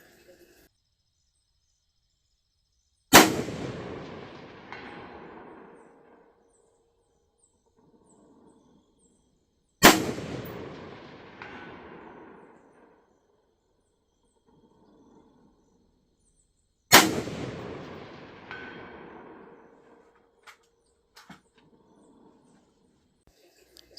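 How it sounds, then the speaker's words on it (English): Three sharp, loud rifle shots from .223 ammunition while a scope is being zeroed, spaced about seven seconds apart, each cracking sharply and then rolling off in a long echo across an open range. "when I started shooting in this video, I was actually using this 223 ammo here"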